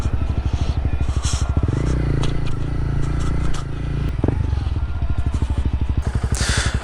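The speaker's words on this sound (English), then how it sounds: "let's pull over and take a look at the bike." A 2015 Honda CB300F single-cylinder motorcycle with aftermarket parts pulls over, its close engine note throbbing steadily and dipping as it slows, with wind buffeting and some clatter throughout.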